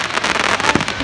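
A Chinese fan firework goes off at a backyard fireworks show, a dense burst of crackling and hissing sparks spread over the whole moment with a brief thump near the end.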